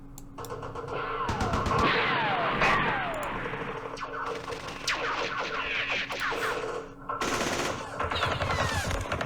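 Rattling bursts of machine-gun and rifle fire from a Vietnam War battle in the Campaign Series Vietnam strategy game, Battle of Hue, with scattered shots and crashes layered over a steady low hum, fairly loud throughout.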